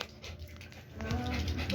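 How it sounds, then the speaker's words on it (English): A small, excitable dog whimpers and pants close by in a home as its owner arrives, soft panting breaths with faint whines that grow slightly louder toward the end, with no talk. "So this is the dog that always welcomes me every time I go home."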